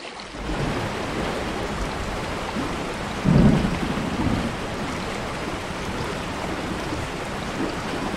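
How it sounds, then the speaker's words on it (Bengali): Heavy, steady rain pours throughout, with a loud low rumble of thunder rolling in near the middle before fading back under the downpour. "ঝমঝমিয়ে বৃষ্টি পড়ছে"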